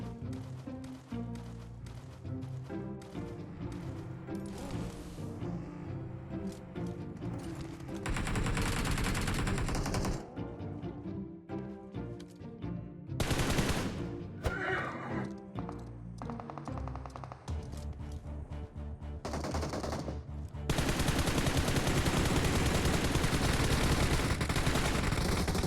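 Gunfire in the PUBG Mobile battle royale game cracks out in repeated bursts and rapid volleys, some distant and some close and loud, over continuous game sound, with no talk.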